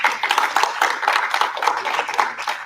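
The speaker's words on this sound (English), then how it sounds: "can we please give a round of applause to our panelists today?" Audience applause for panelists at a Digital Creativity Foundation event, a steady patter of clapping hands from a modest crowd, fairly close and continuous throughout.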